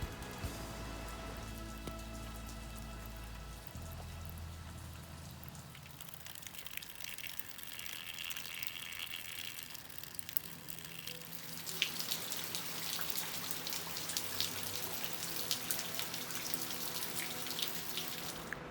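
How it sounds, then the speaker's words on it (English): Steady rain falls outside, a continuous soft patter and hiss of drops on a surface, fairly faint and unbroken, with no talking. "As you can see, we're getting a bit of rain this week"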